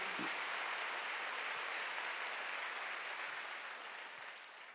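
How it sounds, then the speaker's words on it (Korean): Church congregation clapping at a Wednesday worship service, a broad, even patter of many hands that holds steady and then gradually fades toward the end. "박수 좀 쳐요"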